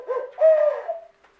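A hand-held hoot owl locator call used for turkey hunting, blown in one short breathy hooting phrase with a long drawn middle note, close and fairly loud, alone.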